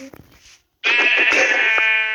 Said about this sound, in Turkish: Koyunlar niye zombilerin yanında?